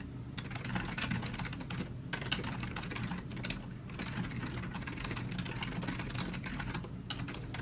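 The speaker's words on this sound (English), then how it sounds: "Typing away." Steady, fast typing on a computer keyboard, a dense run of close clicks and clacks with brief pauses, heard alone at low level.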